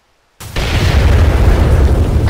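A thrown explosive detonates in the video game ArmA 3, a sudden close heavy boom after brief silence, followed by a sustained rumbling roar that carries to the end.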